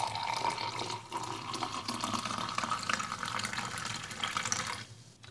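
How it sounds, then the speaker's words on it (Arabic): Hot water pours continuously into a bowl of mixed ground ingredients, a close, steady splashing stream that runs for several seconds and then stops abruptly. "ثم نضيف الماء الساخن للكل."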